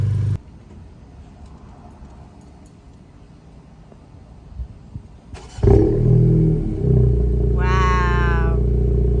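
A 2022 11th-gen Honda Civic 1.5T with a new Remark Link Loop exhaust starts up mid-clip, a sudden loud engine burst settling into a steady, rumbling idle, with a brief high-pitched squeal near the end.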